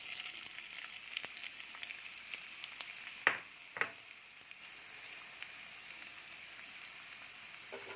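Onions fry in a pan with a faint, steady sizzle and crackle, broken by a couple of sharp clinks from stirring partway through.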